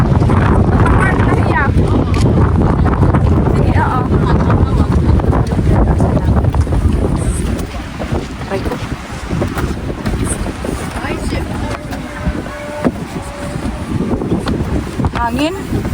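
Loud wind near Banff buffets the microphone in a constant rumbling roar, easing slightly midway but persisting throughout.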